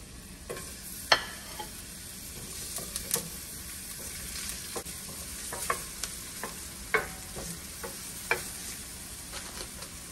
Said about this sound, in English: Go saute down the onion them first.